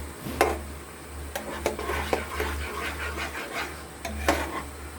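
Masala sizzles in hot oil in a pan while a spoon scrapes and stirs it in a steady, uneven rhythm, close by and moderately quiet over a low background hum.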